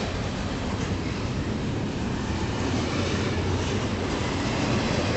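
A southbound CP intermodal freight train led by CEFX 'Blue Bird' locomotive 1045 rolls past, a steady, loud rumble and rush of wheels that holds without a break, with no voices.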